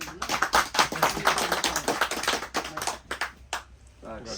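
Applause at an award ceremony comes as a burst of uneven claps that fades near the end, with people talking over it.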